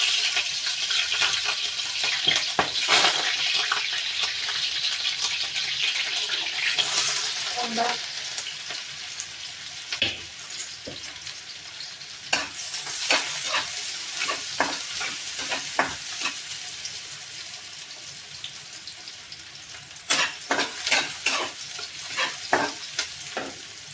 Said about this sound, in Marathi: तेल मस्तपैकी तापले त्याच्यात थोडेसे मिरच्या टाकते